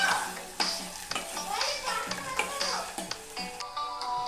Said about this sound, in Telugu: పచ్చిమిర్చి, ఆనియన్స్ వేసేసుకున్నాం. దీన్ని మంచిగా మిక్స్ చేసుకున్నాం.